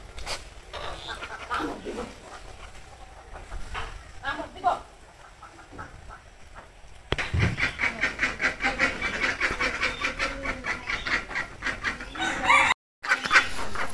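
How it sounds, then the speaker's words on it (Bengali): Village chickens cluck and cackle in rapid, repeated bursts, close and loud in the second half after quieter scattered sounds, with a person talking at times over a rural outdoor background. "মুরগি তো দেখো কেমন করে যায় কেমন করে যায় কেমন করে পাক পাক করতে যায়"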